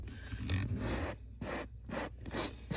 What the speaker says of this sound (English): just trying to agitate the carpet just a little bit